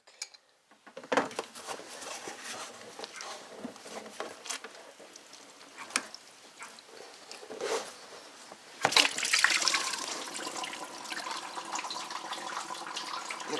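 Coolant draining from the thermostat housing of a Grand Am 3400 V6 into a drain pan, a steady trickling and splashing of liquid close by, growing heavier and louder in a sudden gush near the end, with faint tool clinks.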